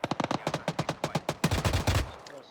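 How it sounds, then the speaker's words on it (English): A DShK heavy machine gun in Arma 3 fires a long run of rapid, evenly spaced heavy shots, then a louder burst that fades out, sounding fairly close. "This Dishka's now firing back."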